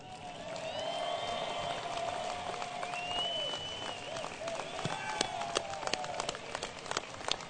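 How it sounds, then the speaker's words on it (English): A university commencement crowd applauds the faculty, broad distant clapping building in a large space, with cheers and whoops rising over it and sharper nearby claps toward the end. "Graduates, please join me in a great round of applause"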